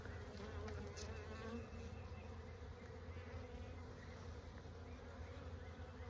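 Honeybees buzz steadily from an opened hive during a spring inspection, a dense, continuous hum close to the listener with no speech.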